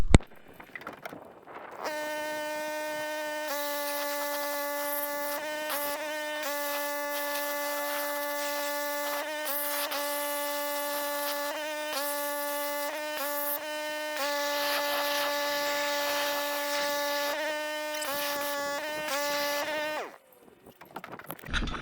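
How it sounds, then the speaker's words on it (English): A pressure washer sprays out a RAM pickup's truck bed, a steady high pump whine with hissing spray that starts after a brief pause, holds for most of the stretch with small dips, then cuts off near the end. "So as I'm pressure washing, I'm noticing this stuff's just hanging up"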